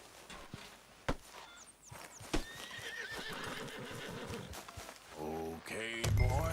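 Horses whinny and hooves clip-clop in the Western open-world game Red Dead Redemption 2, with a loud neigh near the end over steady walking hoofbeats and game ambience.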